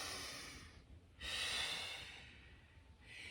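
A deep inhale and exhale during an advanced pilates stretch, heard close and soft: a slow breath in, then a longer airy release.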